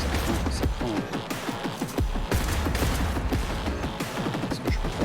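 Sustained gunfire in the video game Cyberpunk 2077, a dense fusillade of rapid shots and crashes that holds loud and steady throughout with barely a break.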